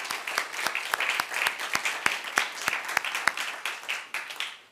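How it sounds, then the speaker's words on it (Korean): A church congregation claps together during a Korean worship service, a lively run of fairly even hand claps that stays moderately loud and slowly thins out. "우리 하나님께 영광의 박수 올려드리겠습니다."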